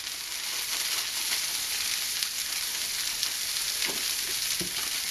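Sichuan pepper sizzling as it fries in hot oil, a steady, loud hiss with faint crackles and occasional light stirring knocks, continuous throughout.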